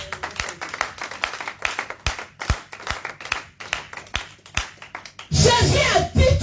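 A church congregation claps in a steady, fast rhythm of sharp, loud hand claps, then breaks into dense, roaring applause near the end.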